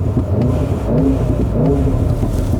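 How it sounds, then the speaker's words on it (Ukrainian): A VW Golf 7 R with a 2.0 TFSI four-cylinder, stage 2 tune at about 400 hp and exhaust bypass rumbles loudly and steadily up close, its low engine drone sounding deep and throaty, with no talking. "Отстрельчики, байпас, вони так приємно просто настроєно, просто кайф."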